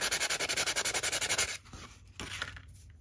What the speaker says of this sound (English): file and sand that down until it's as close to perfectly smooth as possible